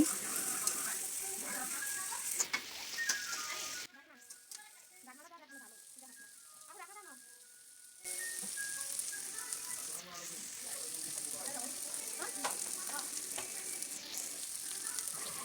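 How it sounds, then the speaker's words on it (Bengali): Beef head meat fries in a pan and is stirred, a loud steady sizzle broken by a few seconds of quieter stirring and scraping before the hiss returns at full strength. "আমি ভালো করে গোশতগুলো নেড়ে নিচ্ছি।"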